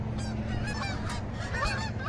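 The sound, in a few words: Canada geese honking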